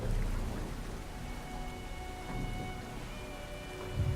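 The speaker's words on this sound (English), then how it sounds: "It's a storm as well." A storm in Brothers: A Tale of Two Sons, with steady heavy rain hissing across the scene and low rolling thunder swelling near the start and end, no speech.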